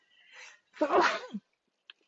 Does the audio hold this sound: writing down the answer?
no